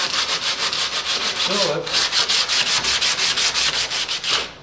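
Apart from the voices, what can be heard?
hand sanding boat fillets with resin-soled gloves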